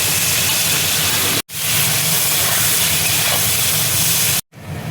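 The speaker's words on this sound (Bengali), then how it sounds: "ওই তেলের মধ্যেই দেখো আমি তেজপাতা দিয়ে দিচ্ছি, গোটা গরম মশলা দেখো দিয়ে দিচ্ছি, পেঁয়াজ কুচি দেখো দিয়ে দিচ্ছি" Bay leaf, whole spices and chopped onion hit hot oil for a mutton curry, giving a loud, continuous hissing sizzle close by, broken by two short cuts.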